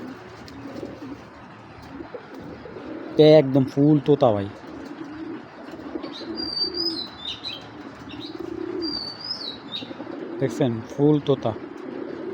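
Giribaz high-flyer pigeons coo softly in a low, continuous murmur at a bird seller's, with occasional higher chirps and wing flutters while someone talks nearby.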